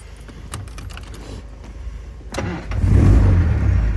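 A Triumph TR3A roadster: a bunch of keys jangles in the ignition, then the engine cranks and fires into a loud, low, steady idle close by.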